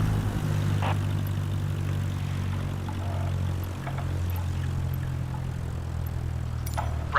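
A Cessna's propeller engine in Microsoft Flight Simulator drones steadily with a low, even hum. The tone dips and shifts briefly midway, with faint radio clicks scattered over the top.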